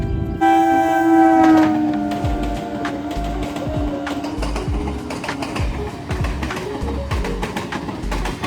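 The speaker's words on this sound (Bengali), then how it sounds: "একে আবার থ্রু ট্রেন দিয়েছে।" A through train passes a station, opening with a loud sustained horn blast, then a long run of rhythmic wheel clatter and rattling carriages close by, with birds faintly audible.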